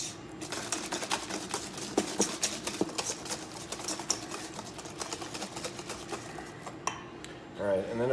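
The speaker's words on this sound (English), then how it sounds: "we're gonna give that a good whisk here" Pumpkin pie filling made with canned pumpkin whisked briskly in a bowl, a rapid steady stream of close metallic ticks and clatter from the whisk against the bowl, ending with a brief muffled shift.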